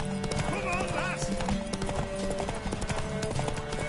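Rapid hoofbeats of a horse in The Witcher 3: Wild Hunt clatter in a steady galloping rhythm, joined by a brief neigh and people talking over it.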